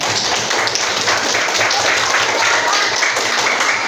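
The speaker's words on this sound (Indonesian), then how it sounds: "kasih tepuk tangan untuk teman kalian" Classroom of elementary school students applauding classmates, a dense, steady round of clapping from many hands, close and loud, holding evenly throughout with no pause.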